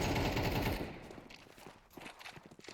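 Automatic gunfire in Counter-Strike 2 rips out in a loud rapid burst, then cuts off, leaving scattered lighter clicks and footsteps trailing away.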